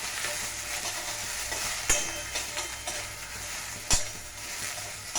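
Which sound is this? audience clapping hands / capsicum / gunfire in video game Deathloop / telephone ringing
capsicum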